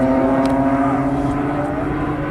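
A CAP 232 aerobatic plane flies high-performance aerobatics at the Southport airshow, its engine a loud, steady droning tone held throughout.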